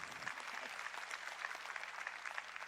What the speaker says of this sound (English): Could you join me in a round of applause for them